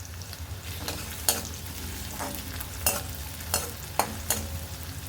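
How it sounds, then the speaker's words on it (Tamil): Chopped shallots sauté in a pan with oil and asafoetida for ginger tamarind thokku, a soft steady sizzle broken by several sharp spoon scrapes and stirs, close and fairly quiet with no talking. "இந்த வெங்காயம் வதங்கிட்டே இருக்கட்டுங்க"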